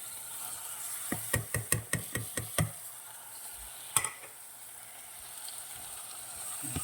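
Onion, ginger and tomato in a frying pan: a faint, steady sizzle runs underneath a quick series of sharp utensil knocks and scrapes, then one more clack, with hiss continuing throughout.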